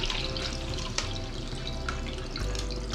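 Filtered water pours steadily from a tap into a cooking pan, a continuous close rushing splash with faint drips and no talking.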